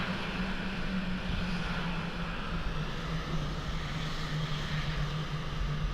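An F-16 jet engine in the Falcon 4 Allied Force flight simulator runs on the runway, a steady, continuous roar with a low hum underneath, loud and unbroken with no talk.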